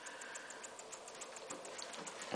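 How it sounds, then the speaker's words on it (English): A small McCabe Runner single-acting model air engine chuffs slowly and faintly with a regular, evenly spaced ticking pulse, alone and close by. "This is a single acting little model air or steam engine"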